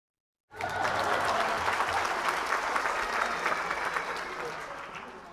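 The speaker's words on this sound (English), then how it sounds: "Let's clap it up for you." Applause starts abruptly after a brief silence and carries on as a dense, sustained round of clapping from a group, a faint crowd murmur underneath, at a football preseason event.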